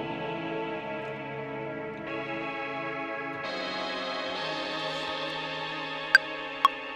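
A synthesizer sound built for a trap beat: a dense, layered tone whose timbre shifts in distinct steps as it sustains, ending with two sharp clicks. No one speaks.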